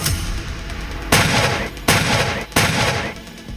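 Three powerful blasts from an Indian Army towed howitzer fire at regular intervals, each a sharp, loud crack followed by a rumbling decay, over a steady background roar.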